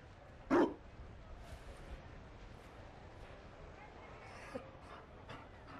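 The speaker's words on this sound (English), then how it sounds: "You found a dog?" A Mabari war dog in Dragon Age Inquisition gives one sharp, loud bark near the start, then pants and whimpers faintly over a quiet background.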